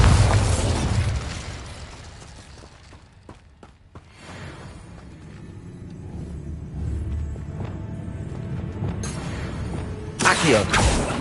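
The Bombarda spell explodes in Hogwarts Legacy with a loud opening blast and crackling debris, settling into a rumbling tail, with another burst of impact noise near the end.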